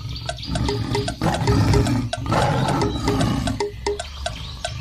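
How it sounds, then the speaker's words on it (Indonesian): A deep, rough growling rumbles on and off, loud and close, over splashing water and a regular ticking background. "Beruang atau bear?"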